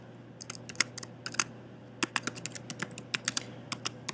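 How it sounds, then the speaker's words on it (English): Typing on a computer keyboard while entering HTML code in the Aptana Studio editor: a steady run of light, close key clicks in irregular bursts over a faint constant hum, with no talking. "let's go back to Aptana Studio and we're going to type this in."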